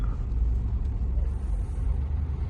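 A bus idling and creeping in a dense traffic jam on a hill road near Munnar, heard as a continuous low engine rumble close by, with faint road noise over it and no voices.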